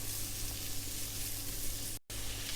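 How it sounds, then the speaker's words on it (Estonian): Celery and bell pepper fry in a pan, a steady dense sizzle that continues without a break apart from one brief dropout, with no voices over it. "ja jällegi praeme umbes minuti"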